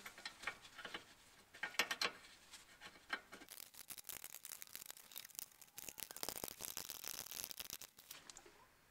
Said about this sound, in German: und ziehen unsere beiden Leitungen dann wieder mit dem Bremsleitungsschlüssel an.